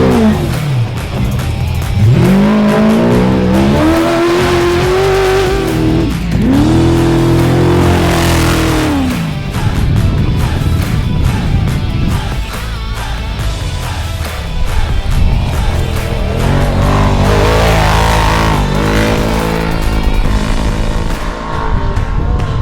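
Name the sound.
off-road race truck engine revving past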